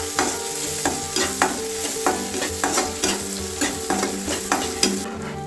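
Egg masala being stirred and fried in a pan, with a spoon scraping and knocking against the metal in a steady rhythm over a continuous close sizzle of frying, with no voices.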